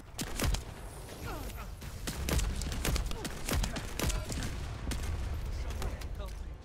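Dense, continuous gunfire from the video game The First Descendant crackles throughout, with sharp repeated shots over a steady rumbling background of fighting.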